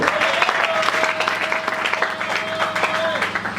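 A church congregation claps and cheers during a sermon, a dense steady roar of applause filling the space, with a sustained tone and a voice rising over the crowd.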